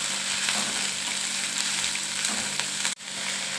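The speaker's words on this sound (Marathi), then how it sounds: "आपण नॉर्मली थोडीशी फ्राय करून घ्यायची फक्त" Fenugreek leaves fry in a pan with a dense, continuous close sizzle and light stirring that stops abruptly near the end.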